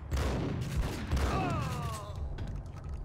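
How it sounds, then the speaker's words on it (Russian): A point-blank shotgun blast in the video game Max Payne, heard as a dense, loud, booming burst amid ongoing rumbling game noise and a fading ringing tail. "В упор из дробовика."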